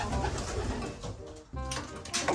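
A racing pigeon perched on a pole gives soft coos amid outdoor noise, heard at moderate distance with a short pause midway.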